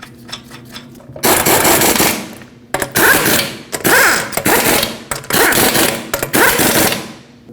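An impact wrench runs down the lug nuts on a 2016-2022 Honda HR-V wheel in a cross pattern. Five or six loud rattling bursts come close up, each about a second long, separated by short pauses.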